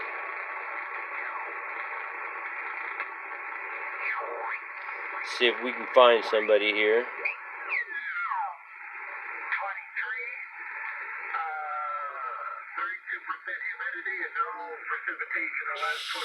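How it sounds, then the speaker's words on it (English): Receive audio from a Yaesu FT-101 ham radio, where hiss and warbling voices from other stations come and go with tuning squeals and swoops. A nearby voice speaks briefly over it. "let's go ahead and kick that back on, and you guys can hear my receive."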